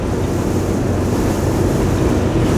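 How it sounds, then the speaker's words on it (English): Strong desert wind around Quartzsite, Arizona blows sand across a road, buffeting the microphone with a loud, constant roar and rumble that never lets up. "That's how hard the wind is blowing today."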